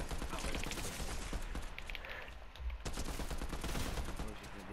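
Gunfire in Fortnite: rapid cracking shots and rattling bursts fill the whole stretch, close and busy, with a brief lull midway before the firing picks up again.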